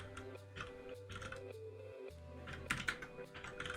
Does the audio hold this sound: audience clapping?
no